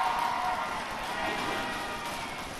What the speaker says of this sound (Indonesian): Silakan tepuk tangan bagi para pendukungnya